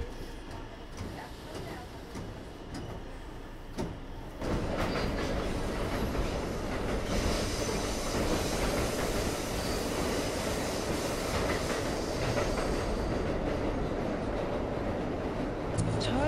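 A New York A train subway car rumbles loudly along the tracks, its steady roar and clatter swelling abruptly partway through and continuing with faint squeals.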